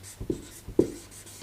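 Chalk or marker scraping on a board in two short strokes, close and fairly quiet, with a light rubbing texture between them and no talk.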